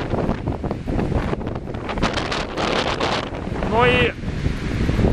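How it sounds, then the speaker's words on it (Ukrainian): Strong wind buffets the microphone in steady, roaring gusts at Yablunytsia Pass in the Ukrainian Carpathians, with a brief whistling tone near the end and a voice speaking briefly. "А ще тут дуже сильний вітер."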